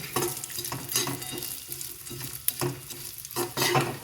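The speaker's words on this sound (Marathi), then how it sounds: "त्यातच आता काजू बदाम दोन्ही थोडंसं लालसर भाजून घ्यायचे." Cashews and almonds are stirred and roasted in a pan while making wheat flour ladoos, giving a steady dry sizzle with repeated scraping strokes of a spoon, fairly close and continuous, with no voices.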